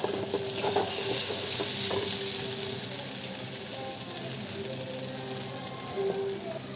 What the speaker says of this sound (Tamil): நடுவில் ஒரு தடவை இப்படி எடுத்து நம்ம லைட்டாக பரட்டி விட்டுடணும்.